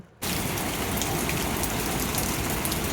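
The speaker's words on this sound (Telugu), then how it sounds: "వర్షం పడుతుంది" Steady, dense rainfall begins abruptly after a brief quiet moment and continues as a loud, even hiss of drops on surfaces, with no voices.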